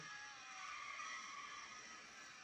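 Tyres screech and skid steadily through a drift race in a racing video game, the modified Dodge/Chrysler Neon sliding with a continuous high squeal at moderate level and no talk.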